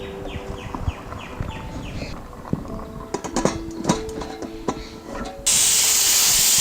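A pressure cooker of beef kurma on the stove lets out a loud, steady jet of hissing steam in the last second, after scattered kitchen clatter and faint background noise.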